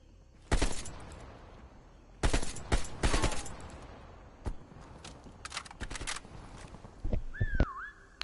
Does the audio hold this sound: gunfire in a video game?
yes